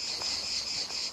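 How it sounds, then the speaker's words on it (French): Cicadas singing in sunlit Mediterranean garrigue, a dense, steady high-pitched buzzing drone that sounds close and loud, with no talking. "Un soleil écrasant, le chant des cigales, une atmosphère de garrigue."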